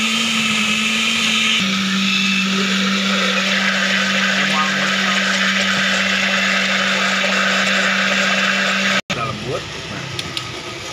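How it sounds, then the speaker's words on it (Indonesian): A blender runs loudly and steadily, whirring through a piña colada or banana smoothie, with a shift in pitch partway through before it stops abruptly and quieter rattling follows. "Blender. Sampai lembut."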